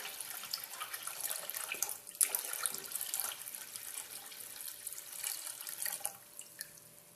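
Water is poured from cans into a pot for a Lao pandan rice dessert, a faint, continuous splashing stream with small surges and drips, heard close with no talking.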